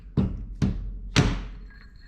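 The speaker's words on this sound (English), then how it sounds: "And we're going to start tapping that to push it down" Three soft, close taps on a rally car shock absorber end sill during a suspension rebuild, evenly spaced single knocks with the last one a little louder and ringing briefly.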